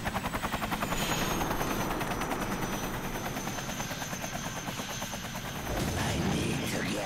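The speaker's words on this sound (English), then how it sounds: "good, it's just a helicopter." A video game helicopter's rotor thumps in a steady, rapid pulse, loud and close, with a turbine whine above it and a brief surge of rumble near the end.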